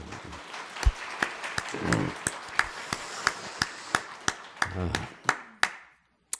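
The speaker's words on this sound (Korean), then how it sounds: "하여튼 박수 한번 좀 보내줘 봐요." Congregation at an early-morning Lenten prayer service claps in a steady rhythm, crisp claps spaced evenly under a low murmur of voices, the clapping loosening and trailing off near the end.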